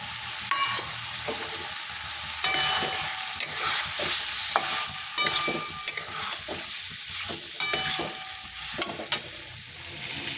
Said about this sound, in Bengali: এবার আনাজগুলো দিয়ে দেবো ভাজা